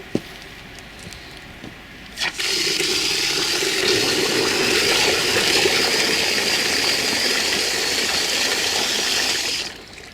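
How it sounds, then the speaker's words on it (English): Water from a hose gushes into a 5-gallon bucket while mixing a plant transplant drench, a steady rushing pour that starts abruptly after a click and runs loud and continuous before cutting off near the end. "So I'm basically just adding water here."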